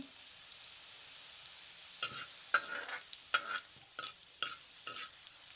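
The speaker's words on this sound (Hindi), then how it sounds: "एक तवा ले लें, उसके ऊपर 5 टेबल स्पून कुकिंग ऑयल शामिल कर दें, साथ में बारीक कटा हुआ लहसुन भी डाल दें।" Soft, steady sizzling of finely chopped garlic frying in oil on a griddle over medium flame, with a few clinks and scrapes of a utensil stirring near the end.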